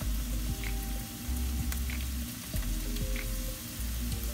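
Tofu pieces fry in a pan of hot oil, giving a steady, close sizzle with faint popping and occasional light clinks, and no voices.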